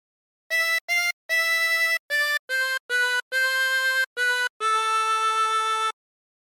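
A melody played on a 24-hole tremolo harmonica, with reedy, shimmering sustained notes in separate phrases. The longest note comes last. Playing is clear and close, with no talking.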